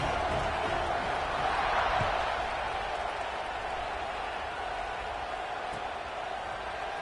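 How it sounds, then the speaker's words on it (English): A stadium crowd in the college football video game NCAA 26 keeps up a steady, distant roar at an even level, with no clear bursts of cheering. "this crowd is feeling themselves after that last drive"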